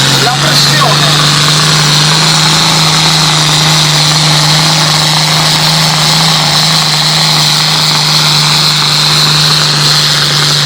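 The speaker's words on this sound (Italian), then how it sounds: "Enrico, se ti immagini lo mandiamo sugli giri, gli facciamo sentire un po' l'odore della frizione e arriva il fumo nero" A tractor pulling competition engine runs loud and steady throughout, a sustained roar with a strong low drone and no break, close and dominating the whole stretch.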